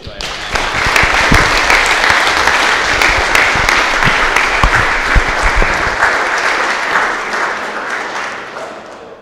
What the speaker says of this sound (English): Can we all get a round of applause for Mark?